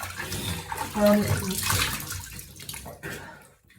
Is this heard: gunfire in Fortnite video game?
no